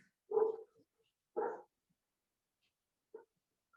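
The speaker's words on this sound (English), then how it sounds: "You have a dog, Tim?" A pet dog gives three short, fairly faint barks, two close together and a softer one after a pause, against near silence.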